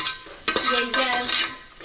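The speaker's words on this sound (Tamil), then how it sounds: "இது அப்படியே கிண்டி விடுறாங்க பார்த்துக்கோங்க" A spoon scrapes and stirs food in a pan, with a soft sizzle underneath, close and steady, no one speaking.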